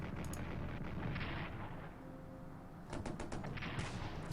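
Artillery fire in the World War I strategy game Strategic Command, Central Powers side: a dense rumbling barrage of booms and sharp cracks, loud and continuous, easing briefly midway before a fresh cluster of rapid impacts.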